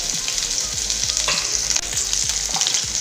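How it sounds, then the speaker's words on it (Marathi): Chopped garlic and green chili fry in hot oil over lowered heat, a steady close sizzle with rhythmic stirring scrapes of a spoon against the pan, no voices. "हे बघा मस्त फ्राय करून घ्यायचं आहे थोडंसं"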